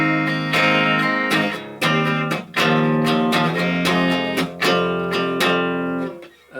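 Guitar strumming the chorus chords of a song, loud rhythmic strums with brief pauses between chord groups, played alone without talking.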